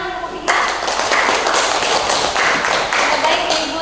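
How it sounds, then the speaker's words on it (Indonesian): A high-school classroom of students claps for a group that has just presented, a close, brisk burst of many hands that starts suddenly and keeps going at full strength. "Tepuk tangan untuk kelompok 3."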